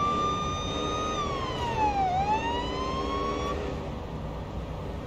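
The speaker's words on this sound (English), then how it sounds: "Go sirens through here." Police car siren in the Police Simulator: Patrol Officers video game, a single wailing tone sweeping down and back up over engine and road noise, fairly faint.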